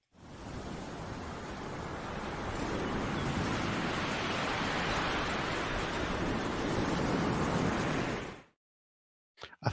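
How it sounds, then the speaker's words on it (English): Sea waves wash onto the shore in a steady, full rushing surge for about eight seconds, fairly loud and alone, then cut off abruptly into silence. "I thought I'd give you the sea noise to calm you down."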